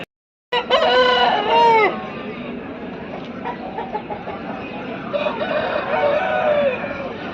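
Roosters and hens at a village country-chicken market in Nallapadu, with a loud rooster crow up close at the start, then steady clucking and crowing from many birds over a busy market din.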